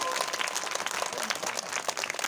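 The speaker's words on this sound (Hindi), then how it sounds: "बजाइए ताली" Crowd applause at a village religious katha gathering, a thin, fairly distant patter of many hands clapping steadily throughout.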